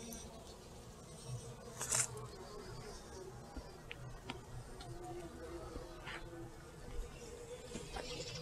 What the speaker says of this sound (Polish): I tutaj też przy odmianie sztadrom mnóstwo owadów. Słyszycie ten rój.